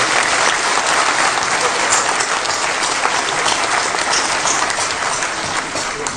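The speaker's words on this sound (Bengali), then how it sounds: "সবাই তাদের জন্য একটু জোরে হাততালি দিই সবাই।" Audience at a ceremony honouring a women's football team breaks into loud, sustained applause, dense clapping from a large crowd that holds steady for several seconds with no voices above it.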